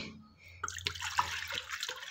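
Water runs and splashes from a tap into a bowl in short bursts, fairly quiet and close by.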